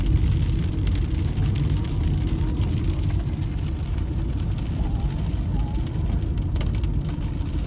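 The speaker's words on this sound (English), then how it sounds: "It has been raining since 3:30 this afternoon and still it's raining." Steady rain and road noise heard from inside a Tata Nexon EV driving through a downpour, a constant low rumble with a hiss of water, even and unbroken throughout.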